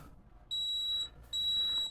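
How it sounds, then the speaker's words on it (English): A Wacaco Exagram Pro digital coffee scale gives two clear, high electronic beeps, each about half a second long with a short gap between them, close by in a quiet room. "3 loud beeps."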